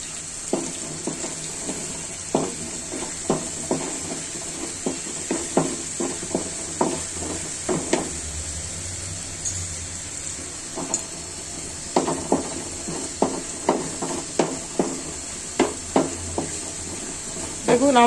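Meat curry fries in a pan with a low sizzle, broken by repeated sharp scraping taps as it is stirred in an irregular rhythm throughout.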